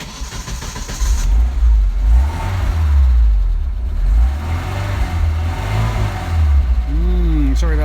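A 1993 Alfa Romeo Spider Series 4 engine cranks and catches, then revs up and down in several swells before settling, loud and close.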